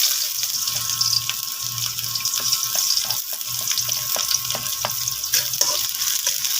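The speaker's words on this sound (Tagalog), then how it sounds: "kumukulo na yung mantika natin" Cooking oil bubbling and sizzling steadily in a pan, a dense crackling hiss with scattered sharp pops and a low hum beneath, close and continuous with no talking.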